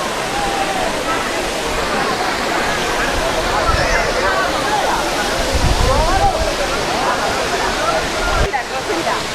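Waterfall at Aruvikkuzhi, a steady broadband rush of falling water that fills the whole clip, loud and continuous, with a crowd chattering faintly beneath it.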